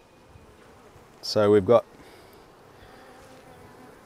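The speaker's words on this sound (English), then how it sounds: "I'm going to shake all these bees in and put the comb back." A mass of honeybees shaken from a frame into a hive drones as a steady low buzz, while a voice speaks briefly partway through.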